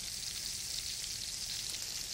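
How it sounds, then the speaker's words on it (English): Chicken pieces sautéing skin side down in hot pans, a steady, dense sizzle and crackle of frying that holds evenly throughout, close and loud with no talk over it. "we want to start sauteing the chicken skin side down."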